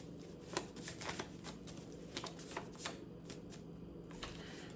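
A deck of tarot cards is shuffled by hand in a string of soft, close riffling flicks and taps with an uneven rhythm, in a quiet room with no talking.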